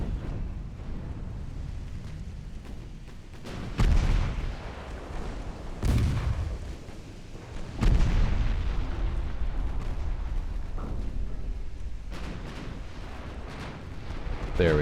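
Heavy 12-inch naval guns fire in a warship video game, booming repeatedly at irregular intervals with deep rumbling shots over a continuous low engine and sea roar.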